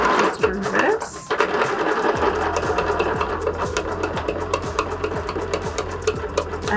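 A sewing machine straight-stitches through a zipper purse, its low motor hum and steady needle pulses running evenly under close-up talk, pausing briefly near the start.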